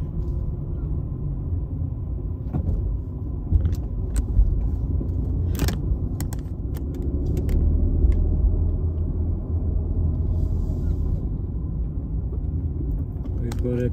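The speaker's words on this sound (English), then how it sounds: "we are driving out of this shopping center now" A car pulls out of a shopping center in Alberton, Johannesburg, with steady close engine and road rumble, scattered light clicks and rattles, and brief bits of talk on top.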